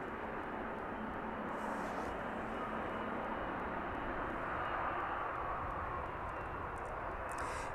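A fixed-wing airliner taxis to its stand in the evening at East Midlands Airport, a steady broad engine roar at moderate distance that swells slightly mid-way, with no talk.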